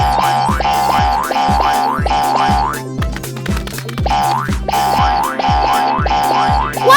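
Cartoon boing of a bouncing ball in a Peppa Pig animation, loud springy bounces repeating in a steady rhythm over a bright musical backing, with a brief clattering break midway.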